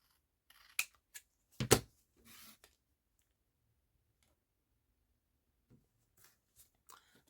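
Scissors snip through gold ribbon in a few sharp, close cuts clustered early, then faint scattered clicks and handling noises in an otherwise quiet room.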